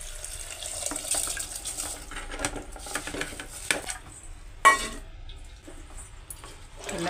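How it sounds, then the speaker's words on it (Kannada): Rice goes into a pan for avarekalu tomato bath and is mixed, giving soft irregular grainy rustles and light scraping clatters of a spoon against the pan, close but fairly quiet, with one sharper knock midway. "ರೈಸ್ ಹಾಕ್ಕೊತಾ ಇದ್ದೀನಿ."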